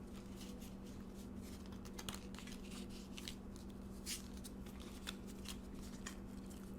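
Tarot cards being shuffled by hand, a steady, close run of soft riffling and rubbing with small flicks, no voice.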